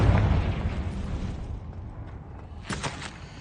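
A Confringo fire spell going off in Hogwarts Legacy opens with a loud, broad blast that decays into a rumbling, crackling tail. A second, smaller burst comes near the end, and nobody speaks.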